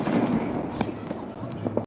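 Fireworks bursting nearby during a backyard gathering while a football game plays, a steady crackle and pop with a sharper bang near the middle, all under murmuring voices.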